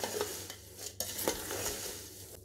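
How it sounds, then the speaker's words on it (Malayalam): Flattened rice (poha) snack mixture being stirred in a bowl, with a steady run of scraping, rustling and light clinks of a spoon against the dish, close and continuous with no talk. "ഇനി ഇതൊന്ന് മിക്സ് ചെയ്ത് കൊടുക്കാം."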